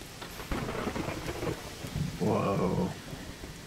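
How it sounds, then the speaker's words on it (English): In the MewnBase video game, a storm pairs loud rolling thunder bursts with continuous rain, a stronger crack swelling near the middle before easing back into the wet hiss. "Whoa, did you see that lightning?"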